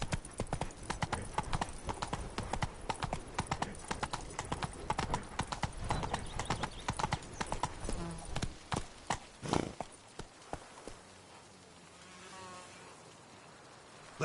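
Horse hooves clip-clop steadily and fairly close in The Witcher 3, a regular walking rhythm for most of the clip, then the hoofbeats fade out as a softer ambient bed with faint insect-like buzzing takes over.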